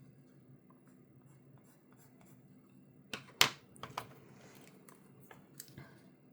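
Soft colored pencils being swatched on paper, quiet scratchy strokes that cluster into a few sharper scribbles midway, close and faint, with no voices.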